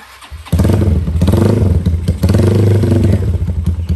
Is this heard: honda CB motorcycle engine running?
yes